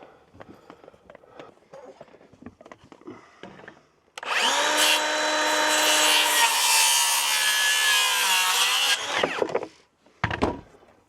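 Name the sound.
sawing to trim wood on cabin exterior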